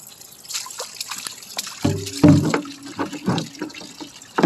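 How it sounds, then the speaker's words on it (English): Water streams and trickles into a farm cistern container, irregular splashing and gurgling pulses close by, with no talk. "Need to get this water stuff filled up so we can continue on with our farm chores."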